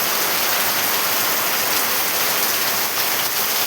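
Heavy rain pours down steadily and loudly, a dense broadband hiss of drops on surfaces with no letup and no voices.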